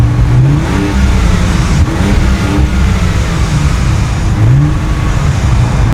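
A 2025 Ram 1500 Rebel pickup truck revving its engine through large black exhaust tailpipes, a loud, steady, close rumble with rising and falling throttle swells and no talking.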